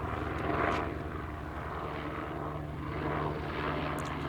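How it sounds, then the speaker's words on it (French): A helicopter passes outdoors somewhere above a dusty street, its steady low rotor and engine drone filling the background at moderate loudness with no talk over it. "il y a un hélico qui passe"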